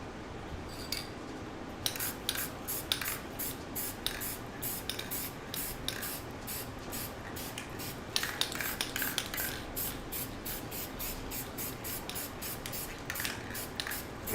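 An airbrush sprays paint onto a sample piece in short repeated bursts, each a close hiss separated by brief pauses, sounding alone with no talk.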